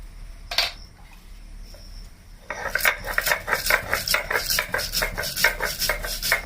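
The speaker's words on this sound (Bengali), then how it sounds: "কালো সরষাটা বেটে নিচ্ছি রাই সরষা" Black mustard seeds are ground by hand on a grinding stone in a kitchen: after a quiet start, a steady rhythmic grating scrape repeats in close, even strokes.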